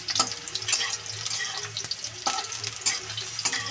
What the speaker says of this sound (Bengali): দেখো হালকা করে একটু ভেজে নিলাম